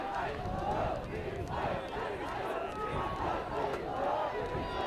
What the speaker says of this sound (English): Crowd is getting a little more raucous out there, cheering for their teams.